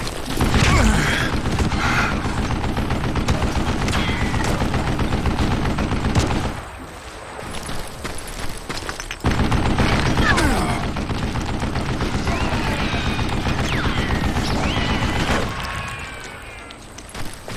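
Gunfire in the Western shooter Call of Juarez Gunslinger, with sustained bursts of shots and mechanical clatter filling most of the stretch. It drops briefly in the middle, then resumes loud and dense before tailing off.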